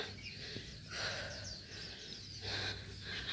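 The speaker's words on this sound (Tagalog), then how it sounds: "Humihingal na." Someone hiking a mountain path breathes heavily in repeated gasping pants, faint and close, with breaths coming roughly every second and no talk.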